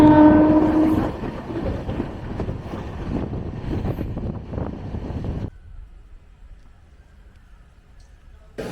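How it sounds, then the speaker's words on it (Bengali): A train pulls out of Kharagpur station with a brief horn at the start over a heavy, close rolling rumble of wagons. The noise drops abruptly to a much quieter hum partway through. "আমাদের ট্রেন খড়গপুর স্টেশন ছেড়ে বেরিয়ে যাচ্ছে।"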